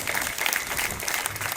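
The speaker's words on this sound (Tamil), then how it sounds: "இதுக்கு ஒரு கைத்தட்டல் கொடுக்கலாமே." An audience at a Thirukkural book launch and prize-giving ceremony breaks into brief, steady applause, a dense spread of many hands clapping heard from within the hall.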